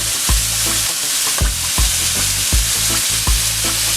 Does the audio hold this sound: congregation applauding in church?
no